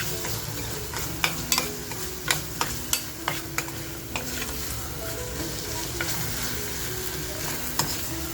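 Tomatoes and salt sizzle steadily in a hot pan while a spoon stirs them, with a run of sharp scraping knocks against the pan in the first few seconds and a few more later, close and fairly loud.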